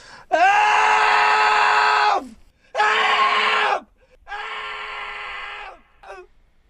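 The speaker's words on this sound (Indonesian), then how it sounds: "Fleming pun terus berteriak minta tolong tanpa tahu jika teriakannya tidak akan didengar oleh siapapun di atas bukit itu" A man in a film screams for help on a hilltop, three long, loud, harmonically rich cries with short pauses between, followed by a brief fourth yelp; no other sounds.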